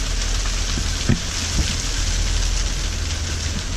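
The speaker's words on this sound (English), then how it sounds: "This is March, boy. Winter storm." A March 2017 winter snowstorm outdoors in New York City gives a steady, dense, loud rushing hiss with a low rumble underneath, broken by a couple of faint thumps, and no voices.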